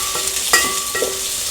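Green chilies and chopped onions frying in a pan for mushroom curry, a steady close sizzle with a couple of brief stirring scrapes and clinks, no talking.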